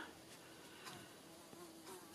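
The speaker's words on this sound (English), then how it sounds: "there's a very, very annoying fly. You can probably hear buzzing about." A fly buzzes faintly around a room during an indoor craft session, its whine drifting softly in and out for a couple of seconds with no talking.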